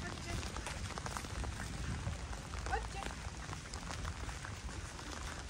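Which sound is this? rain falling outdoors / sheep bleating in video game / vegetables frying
rain falling outdoors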